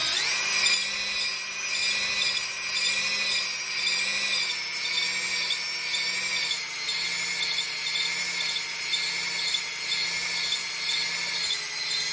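Engine cylinder being honed with a power drill while rebuilding an engine for a 1974 112, producing a steady high whine with a pulsing grinding rub, close and continuous.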